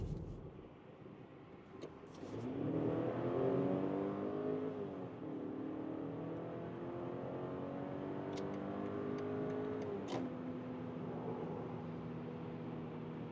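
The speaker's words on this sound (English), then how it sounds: "So that's the first acceleration, driving the X320 here" BMW X3 20 SUV accelerating hard in sport mode, engine note rising steadily through gears with audible shifts, heard from inside the cabin, sustained and fairly loud with no talking.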